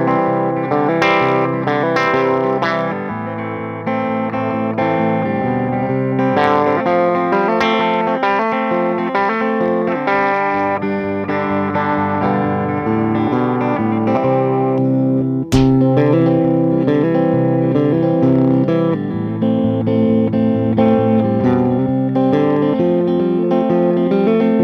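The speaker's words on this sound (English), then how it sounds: "I'm gonna just go through all the different pickup positions in clean and then with a little bit of dirt and see how it sounds" A 2008 Gibson SG Standard electric guitar plays through an amp, moving through pickup positions in clean and lightly overdriven tones, with sustained chords and melodic runs ringing loud and continuous, one sharp click partway through.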